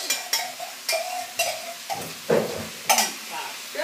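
Stir-fried greens with sauce are stirred in a hot pan: repeated scraping strokes at a steady rhythm over a light sizzle, close and fairly loud.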